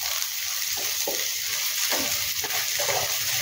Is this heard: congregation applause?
no